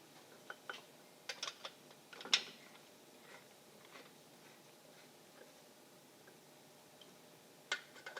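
Quiet, scattered clicks from a ratchet tightening the main bracket bolts on an All American Billet Small Block Chevy engine. Short bursts come and go against a hushed background.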